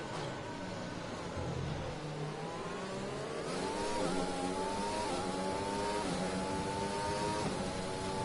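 Mercedes Formula 1 car in a racing video game, its engine whining high and steady as it climbs through the gears, with rising revs and brief shift dips. It sits up close and drones on continuously.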